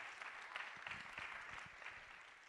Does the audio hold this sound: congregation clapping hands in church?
yes